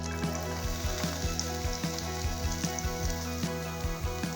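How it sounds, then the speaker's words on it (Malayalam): Chopped onion frying in melted butter in a hot pan makes a steady sizzle throughout, with regular soft knocks and stirring taps over a low hum. "അതിലേക്ക് നമ്മൾ മുറിച്ച് വെച്ച ഉള്ളി ഇട്ട് കൊടുക്കാം"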